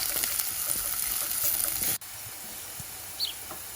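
Cumin, coriander and turmeric masala fries in hot oil for a tadka, a close, bright continuous sizzle that drops sharply in level halfway through and then carries on more quietly.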